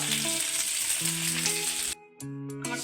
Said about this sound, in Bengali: তেলটা গরম হয়ে গেছে এবার আমি কারি পাতাগুলো তেলের মধ্যে দিয়ে দেবো কিছুক্ষণ ভেজে নেব